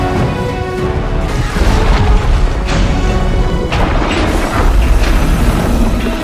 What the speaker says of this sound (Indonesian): Alhasil terjadilah ledakan-ledakan pipa di dalam tanah